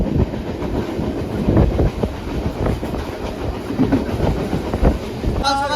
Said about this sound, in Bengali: এখন আমরা ক্যানিংয়ের লোকাল ট্রেনে চেপে গেছি এখন আমরা এই ট্রেনে করে একবারে ক্যানিং যাবো